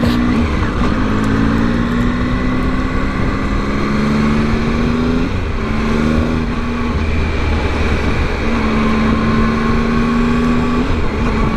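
A 2020 Triumph Tiger 800 motorcycle ridden through heavy city traffic, its engine droning loud and close with rising and falling pitch as it accelerates, under steady wind rush.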